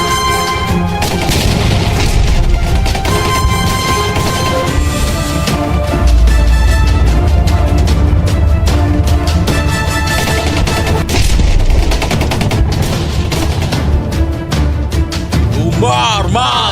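Soldiers' gunfire in a staged historical scene, with booming shots and crashes mixed into a loud, dense soundtrack of music and voices.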